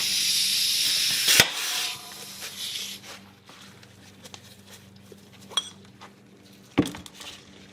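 Compressed air blasts out a piston from a 1999 Acura RL rear brake caliper. A loud close hiss is cut by a sharp metallic clack as the piston pops free, then quieter clinks and a second short burst.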